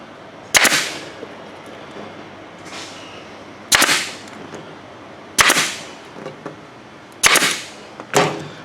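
Sharp, loud staple gun shots drive staples through an ATV seat cover into the seat base, five or six separate bangs spaced a second or two apart, each followed by a short decaying ring, with faint handling noise between.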